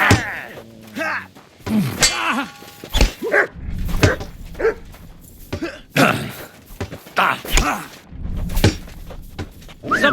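A dog barks repeatedly during a brawl in Kingdom Come Deliverance 2, loud sharp barks scattered amid shouting men, grunts and thudding blows.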